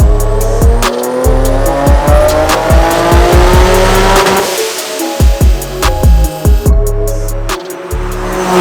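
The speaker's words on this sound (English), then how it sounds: "this is the 2007 Nissan 350Z. It does have the HR motor in it, and it is a manual" A boosted 2007 Nissan 350Z with the HR engine and a manual gearbox makes over 500 wheel horsepower; the engine revs loud and close in repeated sharp climbs and drops, with crackling pops between them.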